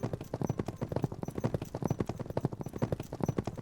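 Horses pulling a buckboard wagon clip-clop steadily in a radio-drama western, with a brisk, even rhythm of hooves that continues without pause.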